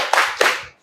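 A group claps in unison twice during a classroom spirit-clap icebreaker, two sharp, close claps in quick rhythm, each ringing briefly before fading.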